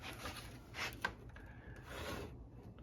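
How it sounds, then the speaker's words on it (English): Drawing the burr on a metal scraper with a sharpening tool held flat against it, producing quiet close-up rasping strokes with a brief sharp scrape midway and no talking. "So we're just drawing out that burr."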